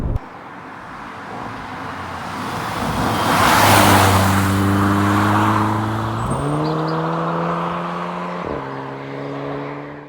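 A Volkswagen Golf GTI Mk6 Edition 35 driving, its engine droning steadily, rising in pitch as it accelerates and dropping at two gear changes, heard from inside the car with no talk.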